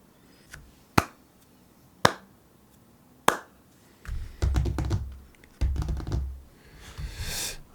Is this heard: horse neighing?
no